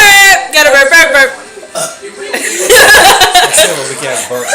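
Loud, deep burps erupt in quick succession up close, mixed with chuckling, snickering and casual talk between people.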